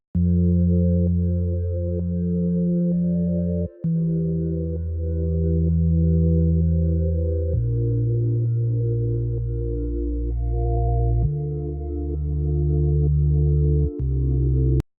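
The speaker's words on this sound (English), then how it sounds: "So together those synths sound like this." Several synthesizer layers playing together in sustained chords that shift every few seconds, a warm bass beneath brighter tones, with no voices.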